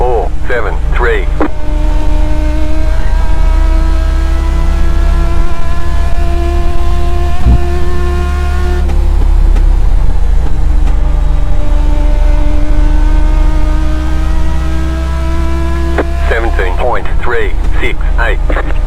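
A Legends race car screams around the Concord Motorsport Park track during testing. The loud engine holds a steady high drone, rises and falls through turns, and dips once midway before climbing again.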